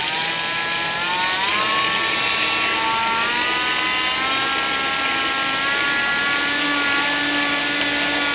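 A small electric washer pump motor runs steadily, pumping fluid from a simulated washer fluid tank, its whine holding close and loud with tones that drift slightly upward as the voltage rises.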